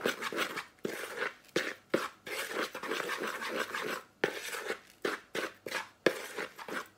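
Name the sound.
stirring dry ingredients for keto gluten-free bread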